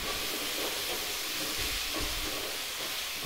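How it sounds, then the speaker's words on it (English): Onions fry in a pan on a gas stove for a desi-style chicken curry with cardamom pods, giving a steady, dense sizzling hiss that stays even and unbroken throughout, with no talk. "while the onions are frying away"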